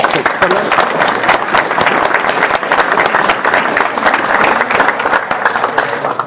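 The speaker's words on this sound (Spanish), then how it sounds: "Pues cerramos con un aplauso, por favor, para Dominic." Loud, crowded clapping rings out for a speaker closing a GraalVM tech meetup, many hands striking rapidly in a dense, continuous burst with some crowd noise mixed in.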